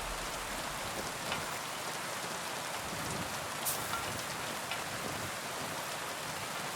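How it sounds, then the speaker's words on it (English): Steady rain in the video game Kingdom Come: Deliverance 2 pours down in a dense, continuous hiss, with a faint low rumble of distant thunder beneath it. "you're just hearing the thunder and hearing the rain, like even on your helmet and stuff"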